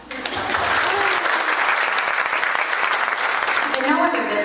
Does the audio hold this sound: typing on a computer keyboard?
no